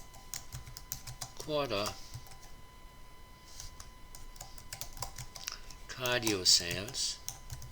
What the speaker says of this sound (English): you have to backspace this chart title out of there and then type in second